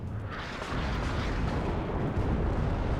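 Artillery barrage in the real-time strategy game WARNO, a dense rumbling roll of distant booms and blasts layered together, heavy low-end thunder that swells and stays loud without pause.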